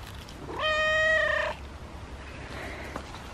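A single short cat meow, close and fairly clear, rising then fading, followed by a fainter second mew against quiet vegetable-garden background.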